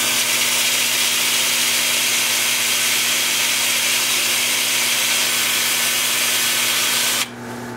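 Sandpaper rubbing against a turned wooden salt cellar spinning on a wood lathe, a steady continuous abrasive hiss over the motor's low hum, close and loud, cutting off abruptly near the end.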